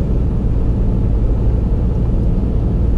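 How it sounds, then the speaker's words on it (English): Constant loud low rumble of a car driving along the firm sand of Muriwai beach at low tide, an unbroken broadband roar with no voices. "And then you can just drive the beach the whole way like this until you find your spots."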